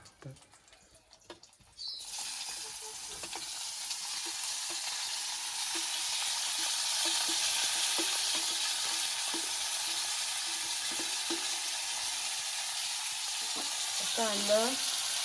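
Onion and tomato frying in oil in a pot over a wood-fired stove for a spicy crab curry, a steady loud sizzle starting abruptly after a quiet moment and holding evenly, with a brief voice near the end.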